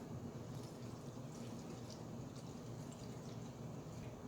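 Water is poured into a bottle while mixing homemade windshield washer fluid with dishwashing liquid, a faint, continuous splashing trickle that runs alone for a few seconds.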